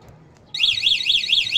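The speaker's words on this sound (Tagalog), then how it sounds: "May alarm pa." A car alarm on a 2000 Toyota Revo sounds abruptly, a loud, close electronic siren wailing up and down in a fast repeating sweep over a quiet idling background.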